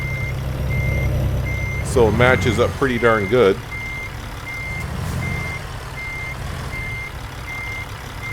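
In American Truck Simulator, a semi truck hauling a black tanker trailer backs up with evenly spaced reversing beeps repeating throughout over a low engine rumble, while someone talks briefly partway through.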